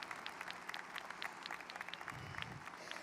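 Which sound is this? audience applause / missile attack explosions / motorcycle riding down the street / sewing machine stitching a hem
audience applause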